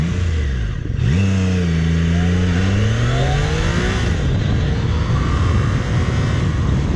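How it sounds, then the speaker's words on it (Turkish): A Triumph Tiger 660 Sport motorcycle accelerates hard, its engine note climbing in pitch through the gears as a loud, close, steady roar with wind noise. "Evet hızımı arttırıyorum aşağı geldi fren yapacağım."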